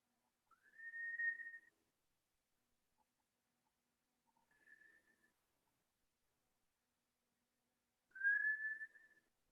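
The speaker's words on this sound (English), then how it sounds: "So I want you to either whistle on your inhale or whistle on your exhale." A person whistles on the breath in a quiet room, giving three separate soft, steady tones spaced a few seconds apart. The middle tone is fainter and shorter than the others.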